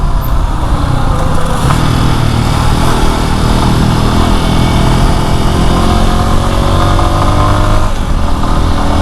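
A motorcycle running at speed, its engine droning loud and steady with a continuous roar and no pauses across the whole stretch.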